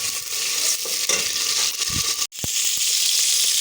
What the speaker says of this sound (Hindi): हमारा प्याज ब्राउन हो रहा है और बिल्कुल अच्छे तरीके से हो रहा है